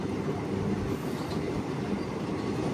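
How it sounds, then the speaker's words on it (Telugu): A goods train rumbles alongside the Chennai–Katra Andaman Express passenger train as both run on parallel tracks, a dense continuous roar of wheels and wagons with faint clickety-clack and no voices. "అటు గూడ్స్ ట్రైన్ మన ట్రైన్ రెండు ప్యారలల్ రన్ అయితే అవుతున్నాయి."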